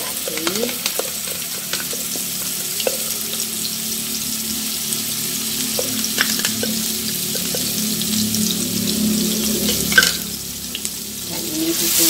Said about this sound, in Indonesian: Dan ini ditumis sampai harum terlebih dahulu ya.